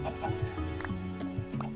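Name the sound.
chickens clucking in Minecraft video game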